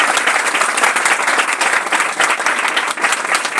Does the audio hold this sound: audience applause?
yes